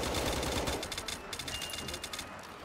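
Rapid bursts of gunfire from an odd-sounding gun in the Octagonal Ascension zombies map of a video game, loud and close, with a dense run of sharp shots crackling over game noise.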